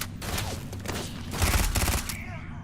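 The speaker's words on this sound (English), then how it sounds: "Somebody shooting lasers at you now?" Laser gunfire in Starfield, a string of quick, mid-loud zapping shots forming a brief volley, with talk faintly mixed in.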